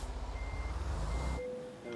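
A truck's reversing alarm beeps in a steady repeating pattern in American Truck Simulator, with a continuous engine rumble underneath during parking.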